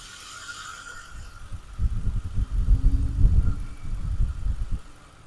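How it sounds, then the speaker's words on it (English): A 2003 Mercury Grand Marquis engine idling after new spark plugs and coils, heard with the microphone brought close: a quiet start swells into a steady, deep low throb that stays even for several seconds, then fades at the end. "I'm gonna put the mic closer to the engine so you guys can hear it."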